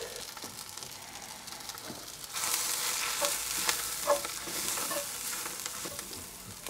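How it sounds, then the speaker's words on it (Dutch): Flour is stirred through rabbit pieces in a hot pan, giving a steady sizzle with scraping stirs. The frying swells louder partway through, and no one speaks. "Dat roer je even goed door."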